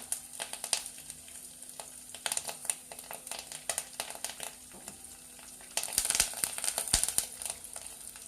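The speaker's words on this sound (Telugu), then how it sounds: "ఎండుమిర్చి వేగిన తర్వాత కరివేపాకు వేసుకోండి." Dried red chillies and curry leaves tempering in hot oil give quiet, uneven crackling and spitting pops that grow denser and louder near the end, with no speech.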